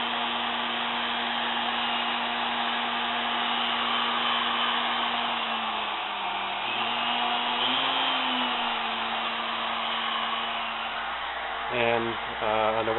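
A wood router motor on a CNC bench, switched on through Mach3 spindle control, whines steadily at close range throughout, with slight shifts in pitch midway and a brief change near the end.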